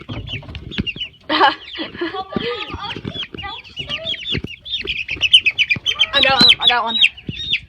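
Small chickens cluck and chirp in a busy, overlapping chorus, close and fairly loud, while a person speaks over them.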